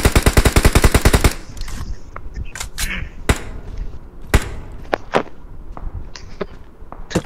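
Gunfire in an online shooter game opens with a rapid, loud burst of automatic fire, followed by scattered single shots and sharp impacts over a low background rumble.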